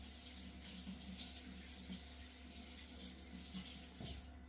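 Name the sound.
water running from tap while washing hands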